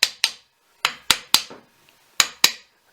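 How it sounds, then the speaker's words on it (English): A light hammer taps a bearing race into a Skywatcher NEQ-6 telescope mount: seven sharp, close metallic knocks in uneven pairs and singles, each ringing briefly, with quiet gaps between. "using a light hammer, tap in the race."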